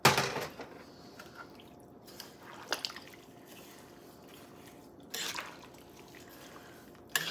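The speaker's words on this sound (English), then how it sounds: "we're going to add just enough water to cover it" Water is poured into a pot of kumquats and sugar for marmalade, a soft steady trickling and splashing with a few louder drips and clinks, close and fairly quiet, with no talking.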